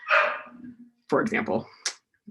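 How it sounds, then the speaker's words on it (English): A dog yowls and barks at the start, fairly near and loud, before someone begins talking in the foreground. "my dog wants dinner, so if you hear the yowling in the background, there is a dog participating in this conference."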